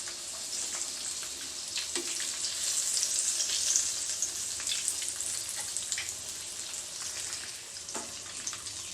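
Stuffed tinda (round gourd) frying in hot oil in a pan, a steady bright sizzle with crackling that runs the whole time, close and fairly loud, with a couple of soft knocks and no talking.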